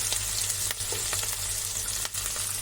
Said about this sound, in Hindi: अब हम इसमें प्याज भी डाल देंगे